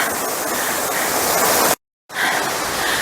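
Steady rushing water of a mountain valley stream in Chiaksan National Park, South Korea, loud and continuous, cutting out briefly to silence before resuming.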